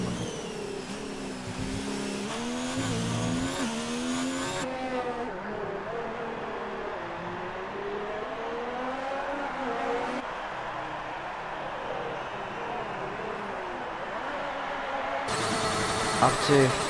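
F1 2019 Formula One car in the video game at the United States Grand Prix, engine screaming as it accelerates up through the gears, rising pitch sweeps broken by shift drops, loud and continuous with a commentator talking over it.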